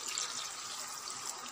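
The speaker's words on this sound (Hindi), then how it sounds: "इसलिए मैं इसमें एक गिलास पानी डालूंगी" A glass of water is poured into a pot of partly cooked potatoes and keema, producing a steady, soft splashing hiss that continues evenly throughout without any voices.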